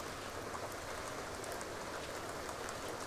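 Steady rain falls in The Sims 2, a continuous even hiss of drops on surfaces with no voices over it.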